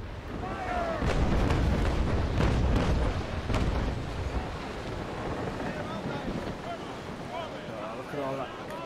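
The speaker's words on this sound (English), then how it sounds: "Oh, look at all that smoke off the cannon fire." Ship cannons fire in the naval combat game Naval Action, a series of heavy booming blasts clustered in the first seconds over rushing wind and sea noise, with faint talk beneath.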